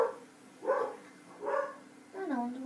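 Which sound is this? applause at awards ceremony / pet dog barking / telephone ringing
pet dog barking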